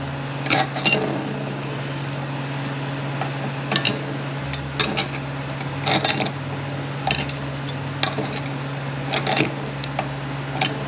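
A metal clutch dish plate being handled during a 4L30E transmission pump rebuild, scattered light clinks and taps against other parts over a steady low hum, near and fairly quiet, with no talk.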